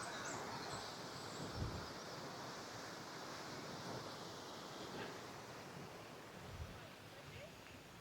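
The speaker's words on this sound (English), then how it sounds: "Not a bad waterfall, is it?" Steady broadband rush of Eas Mor waterfall on the Isle of Arran, a continuous roar of falling water mixed with gusty wind on a breezy wooded trail, even and unbroken throughout.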